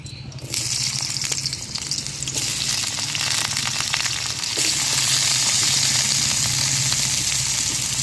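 Potatoes drop into hot oil already seasoned with cumin seeds and a dried red chilli, setting off a loud, close, continuous sizzle that swells further midway and stays steady with faint stirring underneath.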